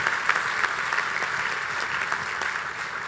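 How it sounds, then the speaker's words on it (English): A college audience at Reed College breaks into applause, a steady, moderately loud wash of many hands clapping with a few sharper individual claps standing out, no talking over it. "Let's applaud."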